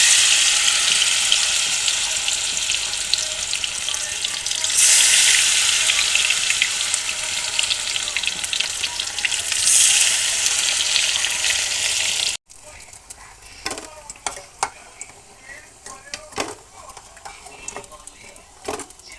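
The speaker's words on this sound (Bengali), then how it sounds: "আর এক এক করে গরম তেলে কচুগুলো ভেজে নেব।" Loud, steady sizzling of taro pieces frying in hot oil, then an abrupt shift to quieter crackling with scattered clicks and pops.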